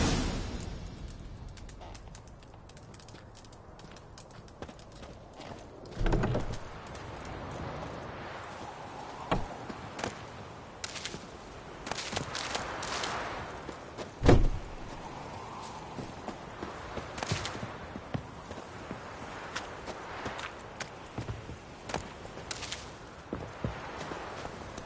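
Roach, the horse in The Witcher 3, trotting along with steady clip-clopping hooves mixed into game ambience and occasional louder thumps, with no talk over it.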